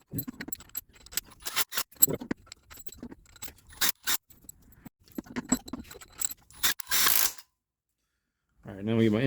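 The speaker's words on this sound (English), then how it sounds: "This is the weak impact gun." A weak impact gun drives head bolts down on an Integra engine during a head gasket job, producing short ratcheting bursts and metallic rattles in a series of close, uneven pulses, then a pause and a brief voice at the end.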